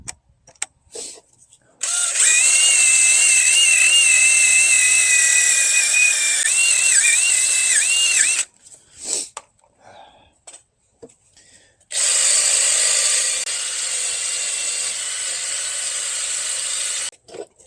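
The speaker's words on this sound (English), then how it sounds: "I'm gonna grab wire wheel real quick, clean this up" A wire wheel on a power tool grinds grime off a Chevrolet Tahoe/GMC Yukon wheel hub where it bolts to the steering knuckle, in two loud, steady bursts of harsh whirring separated by a short pause with clicks.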